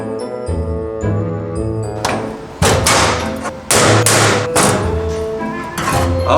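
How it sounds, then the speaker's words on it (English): Several heavy sledgehammer blows strike the metal casing of an ATM, each a loud clanging thud with ringing overtones, spaced unevenly over a low droning background. "Do we have a sledgehammer?"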